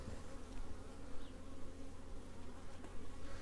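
A honey bee colony hums densely inside a hive body, a dense, continuous close buzz with no voices.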